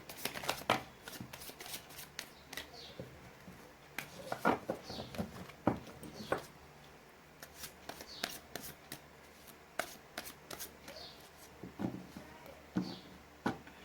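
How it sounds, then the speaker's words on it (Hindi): Tarot cards being shuffled and drawn by hand, with close, crisp riffles, flicks and soft slaps arriving in irregular bursts over a quiet background. "यहाँ से मैं कुछ एडवाइस कार्ड्स निकालना चाहूँगी।"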